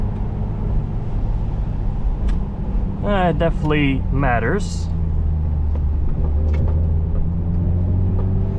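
A Nissan 350Z Roadster drives along with a steady, low engine and road rumble mixed with wind noise, and a voice says a short phrase over it.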